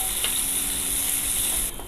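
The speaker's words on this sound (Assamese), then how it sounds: "এতিয়া মই এই কেৰেলাখিনি এনেকৈ তেলত মই ভাজি ল'ম" Bitter gourd (karela) fries in mustard oil in a wok, giving a bright, steady sizzle with a couple of soft stirring knocks, close and continuous.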